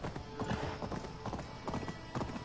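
Horse hooves clip-clop at a steady trot in Assassin's Creed Valhalla, the rhythmic thuds fairly close and moderately loud over a constant game ambience, with a faint whinny mixed in.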